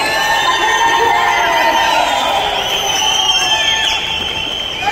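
Audience at a pre-release event for the film Kamal Sridevi, cheering and shouting continuously with loud whoops and a dense roar of crowd voices. The noise stays sustained and close throughout.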